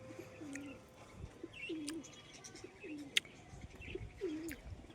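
Pigeons, a pet loft of high-line breed, coo in repeated low rolling phrases at an even pace, with occasional chirps and a brief sharp click over steady outdoor background noise.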